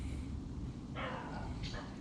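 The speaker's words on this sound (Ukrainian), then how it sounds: "собаки." Dogs bark in short bursts somewhere off at a distance on a hot day by the Dnipro river, the sound faint and thin over a steady low background rumble.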